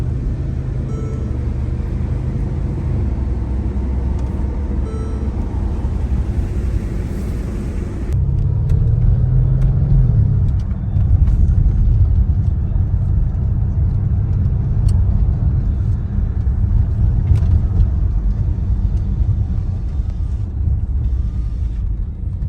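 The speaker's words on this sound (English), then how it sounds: "Now we're going to go for a test drive." Mercedes ML63 AMG with the M157 bi-turbo engine on a test drive after a coolant line repair, a loud continuous low engine and road rumble from inside the car, shifting in tone partway through.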